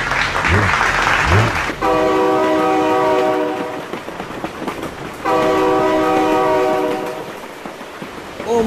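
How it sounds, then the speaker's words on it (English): A loud train horn blasts twice in long sustained chords in the BeamNG Drive driving game, with the rumble and clatter of the passing train between the blasts and a brief engine whine at the start. "Oh my God, train!"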